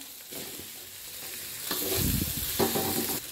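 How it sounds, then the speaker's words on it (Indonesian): Beef and seafood meatballs drop into hot seasoning in a wok for fried noodles, setting off a loud sizzle with scraping stirs and clatter, close up and without talk. "ini saya masukkan 5 buah bakso sapi 5 buah bakso seafood ya"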